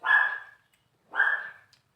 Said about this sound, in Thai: มันจะเห่าทำไม